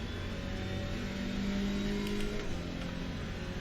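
Alpine race car engine in Assetto Corsa Competizione droning steadily and revving throughout, a continuous mid-pitched buzz with no talk.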